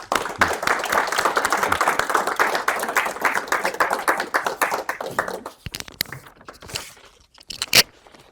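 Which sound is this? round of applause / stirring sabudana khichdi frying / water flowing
round of applause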